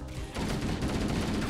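Gunfire in the Halo MCC video game: a sustained, loud burst of rapid automatic shots rattling close up, with no talk over it.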